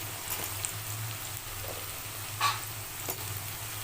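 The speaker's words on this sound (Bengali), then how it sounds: "এবারে এই কুমড়োগুলো একটু হালকা হালকা করে ভেজে নিতে হবে" Pumpkin pieces frying with spices and sugar in a pan for a mutton dish, a soft steady sizzle close by with a few brief stirring scrapes and taps.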